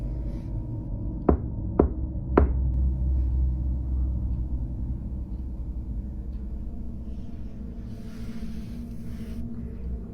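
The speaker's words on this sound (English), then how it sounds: "Do you hear the rhythm in the knock?" Three sharp knocks land in quick, evenly spaced succession early on, followed by a low, steady rumble and hum with no further knocking.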